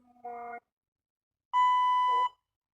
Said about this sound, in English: Go to that device there with a blue light on it. And it'll beep.